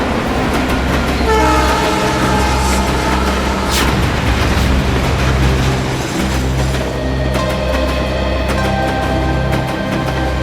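A train pulls out of a station, its loud rumble and rail clatter steady throughout, with a long horn blast partway in and metallic squeals riding over the passing cars.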